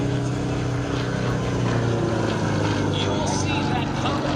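Sukhoi SU-31 aerobatic plane performing at the Cherry Point Air Show, its propeller engine roaring steadily and loudly throughout as it maneuvers overhead, with no talk.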